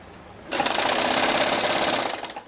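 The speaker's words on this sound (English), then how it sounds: "you're making a straight stitch over it" A sewing machine runs a straight stitch over rolled fabric, starting abruptly into a loud, steady, rapid mechanical whir for about a second and a half before slowing and stopping, close up with no talking.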